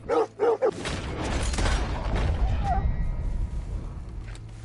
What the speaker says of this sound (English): Get fucking away from me, dog. I don't want to hurt you.